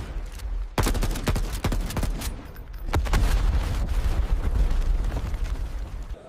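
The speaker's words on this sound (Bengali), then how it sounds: "এই নাও অস্ত্র, ফায়ার করো। এটা শুটিং টেস্ট।" Rapid gunfire in a shooting test, a dense fusillade of overlapping shots and bursts that keeps going without a break.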